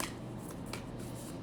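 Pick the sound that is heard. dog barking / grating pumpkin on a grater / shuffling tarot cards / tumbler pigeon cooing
shuffling tarot cards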